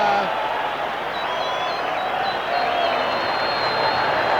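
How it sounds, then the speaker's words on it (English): A rugby match crowd roars and cheers steadily after a try, a broad sustained wash of stadium noise from a distance with no pauses. "Listen to the crowd."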